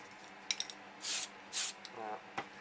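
Flat clear coat sprays onto a 1:24 Aoshima DeLorean model kit in several short aerosol bursts, close and hissing, with small clicks and handling noises between them.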